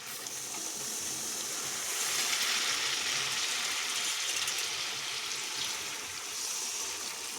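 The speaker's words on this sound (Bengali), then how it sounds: "পরিমাণ মতন জল দিয়ে দেবো।" Water is poured into a pan of chicken curry, a steady splashing hiss with faint clinks, close and fairly quiet, no talking.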